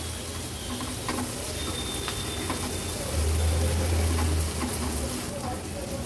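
Steamed tomato is mixed and mashed in a pan for a vegetarian thali dish, with soft sizzling and wet squelching scrapes under a voice speaking throughout.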